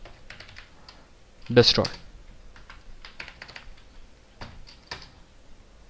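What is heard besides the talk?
typing on a computer keyboard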